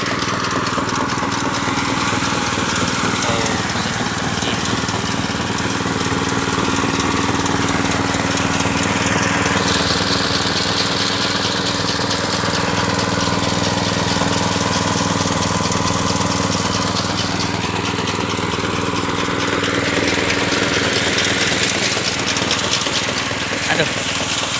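A rice harvesting machine's engine runs loud and continuous in the field, a steady droning rumble that holds without letup throughout.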